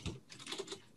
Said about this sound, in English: I was actually just typing a response there.